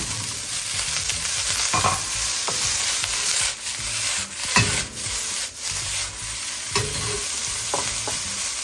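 Broccoli and garlic stir-fry in a little oil over medium heat, giving a steady close sizzle broken by repeated scraping strokes and taps of a utensil against the pan.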